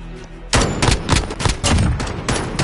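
Rapid bursts of gunfire from a video game match, loud and close, with repeated sharp shots in quick rhythmic volleys after a brief quiet start.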